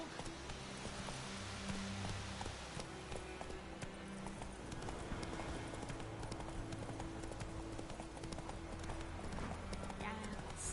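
Horse hooves clip-clop steadily through The Witcher 3 video game, in a continuous trotting rhythm under a constant bed of game ambience and music, with voices speaking over it.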